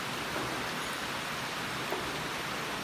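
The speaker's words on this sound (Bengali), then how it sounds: "তো বৃষ্টি দেখি, আষাঢ় মাসের বৃষ্টি, ঝম বৃষ্টি পড়ে," Heavy monsoon rain falls in a dense, steady roar of broadband hiss, even and unbroken throughout, with no voices over it.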